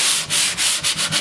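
Wood veneer sanded by hand with the grain, a steady rhythm of about five firm back-and-forth strokes, close and alone with no talk.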